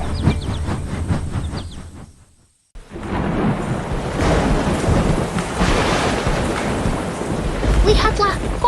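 Deep rolling thunder rumbles over a city under a low sky, a heavy sustained roar that briefly drops out before surging back loud and broad, with rain-like hiss on top.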